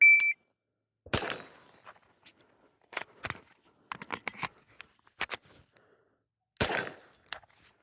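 A KelTec Sub2000 fires on a shooting range after a shot-timer beep, the sharp beep followed by a string of loud, crisp gunshots in irregular bursts, with a second beep near the end.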